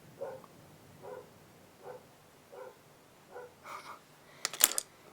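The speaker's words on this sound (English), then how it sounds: "Some crazy dogs barking in my backyard." Faint, distant dog barks repeating at a steady pace from a backyard outdoors, followed by a few louder closer clicks and rustles.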